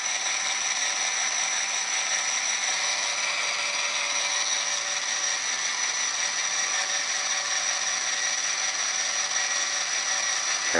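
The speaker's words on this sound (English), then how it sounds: "So now the lens retracts and it's counting backward, rewinding the film back into the canister" An Olympus Infinity Stylus compact film camera's motor rewinds the roll into the canister, a continuous high whirring drone with a faint ratcheting texture, steady and close throughout, with no talking.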